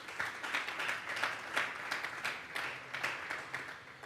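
Congregation applauding during a Sunday church service, scattered hands clapping in an uneven, rhythmic patter with periodic swells, fairly soft and roomy.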